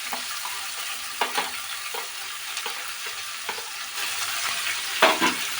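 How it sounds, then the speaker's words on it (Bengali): Chopped onion hitting hot oil in a pan already holding tempering spices and green chili, a steady sizzle and frying hiss with scattered stirring scrapes and a louder splatter near the end. "এরপর বন্ধুরা ফোড়ন আর কাঁচা লঙ্কাটা দেওয়ার পরে পেঁয়াজ কুচিটা দিয়ে দেবো।"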